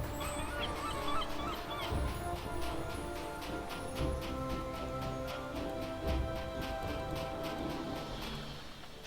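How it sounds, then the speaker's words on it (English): Seagulls call repeatedly over a steady ambient game soundscape near a harbour with a large pirate ship in Neverwinter Nights Swordflight, the honking cries moderately loud and recurring through the scene. "Seagulls."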